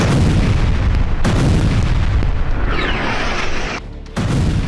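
Bombing explosions in Gaza, heavy booming blasts and rumbling artillery-like detonations, loud and continuous with a brief drop before another blast hits.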